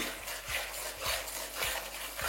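Spoon stirring turmeric and Kashmiri chili powder into a chana paneer masala, giving a soft rhythmic scraping with faint sizzle, repeating roughly every half second.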